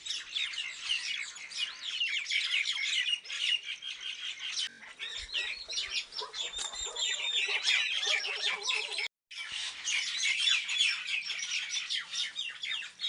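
A flock of birds roosts in a cinnamon tree in a hill village in Uttarakhand, chirping and tweeting in a dense, busy chorus that breaks off briefly before resuming.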